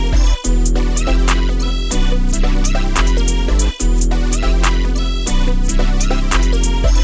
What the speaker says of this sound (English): So altogether, the drums sound like this.